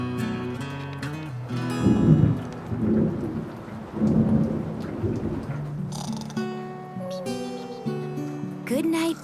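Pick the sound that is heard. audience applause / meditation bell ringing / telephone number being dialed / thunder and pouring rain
thunder and pouring rain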